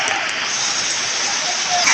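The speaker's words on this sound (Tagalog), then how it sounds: "Tapos umuulan pa." Steady rain pours over a flooded street, a dense continuous hiss of water with no breaks, close and fairly loud.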